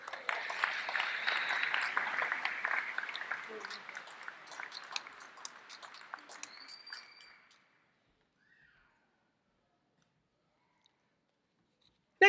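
Audience applause at a medical school commencement ceremony, a dense wash of clapping that fades out after about seven seconds, followed by near silence.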